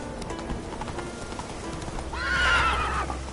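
A horse galloping in the video game The Witcher 3 makes soft hoofbeats, then a loud, close neigh rises and fades over about a second near the end.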